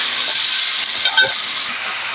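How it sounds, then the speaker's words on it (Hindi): Onions frying in a pot for a biryani pulao sizzle steadily after a small splash of water, a loud continuous hiss with a brief burst of bubbling near the middle, no voices. "अब इसमें हम पानी का छींटा लगा देंगे थोड़ा सा और 1 से 2 मिनट को इसको पकने देंगे"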